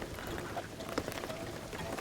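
Rain falling in the video game Shadow of the Tomb Raider, a soft, steady patter of drops on surfaces with a few sharper splashes, faint and without speech.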